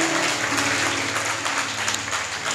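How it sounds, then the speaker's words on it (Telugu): Loud, sustained clapping from a church congregation fills the whole stretch, dense and steady without pause. "కొట్టి చప్పట్లు గట్టిగా కొడదాం"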